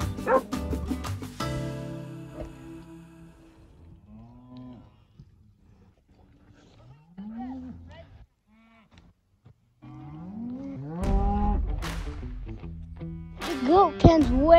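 Several loud dog barks in quick bursts at the start and again near the end, with cattle lowing in between, as dogs herd goats and cows on a farm.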